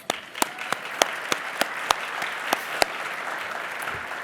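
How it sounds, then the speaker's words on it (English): Audience applause at a Texas Alliance for Life event honoring Leadership Circle members, a steady crowd clapping with a few sharp, louder claps standing out, fading slightly toward the end. "Can we give you applause?"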